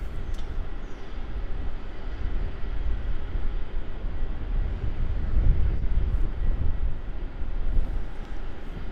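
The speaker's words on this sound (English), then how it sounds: "And about to roll now, we have the Japan Airlines off to Tokyo" A Japan Airlines Boeing 787-8 rolling for takeoff at Melbourne Airport, a broad, steady low engine roar heard from a distance with wind rumble over the microphone.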